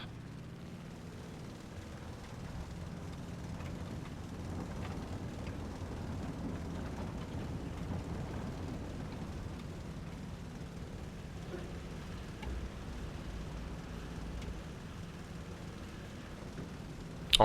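Fighter plane engine in War Thunder, a US carrier fighter throttling up for takeoff with flaps set: a steady, continuous low engine drone that holds at an even level throughout, with no talk.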